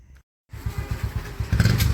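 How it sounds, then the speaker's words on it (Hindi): A motorcycle ridden out to the farm fields starts up after a brief silence, its engine settling into a close, loud, pulsing chug that builds toward the end. "निरीक्षण के लिए चल रहे हैं मोटरसाइकिल में खेतों में"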